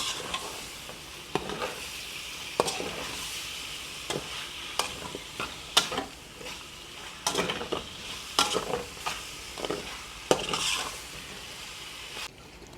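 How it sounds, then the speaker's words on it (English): Beef is stirred through a coating in a bowl, giving wet, sticky, squelching rubs and scrapes in uneven bursts, moderately close, with no speech. "start mixing this together and coat everywhere all over your meat"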